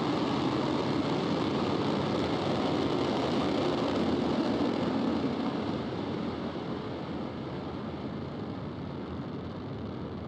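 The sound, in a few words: SpaceX Falcon 9 rocket ignition and liftoff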